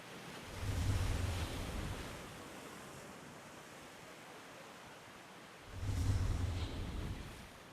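Sea waves surging in twice, each a broad low rush of surf that swells and then recedes into a steady hiss of wind and water, with no voices.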